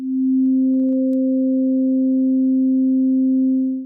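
Synth tone with an ADSR envelope on a single harmonic, holding a pure, steady sine-like pitch with a faint higher partial above it, sustained for nearly four seconds before fading out cleanly.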